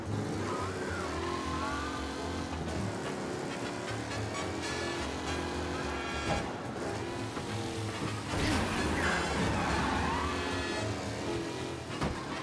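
Car in Mafia: The Definitive Edition driving hard and sliding, a steady close engine drone with faint tire scrubbing and occasional louder surges, heard alone.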